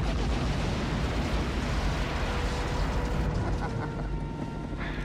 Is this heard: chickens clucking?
no